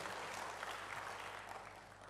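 Church congregation at a Sunday service clapping together, a soft, steady wash of many hands at some distance, unbroken for two seconds.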